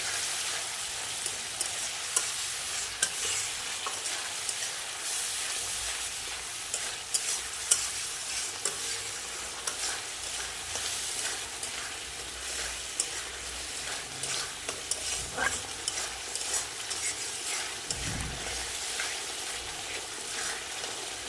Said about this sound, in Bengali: ভালো করে আর একটু কষানোর জন্য সামান্য পরিমাণে আর একটু জল দিয়ে দেবো।